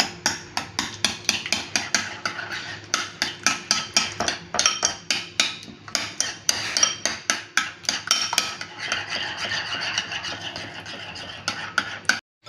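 Repeated clinking and scraping of a utensil against a bowl while grated garlic and marinade ingredients for salmon are mixed, a steady run of close, sharp taps over about twelve seconds with no talking.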